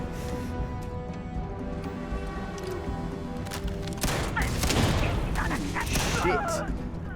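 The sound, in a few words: gunfire from a gun in the video game Starfield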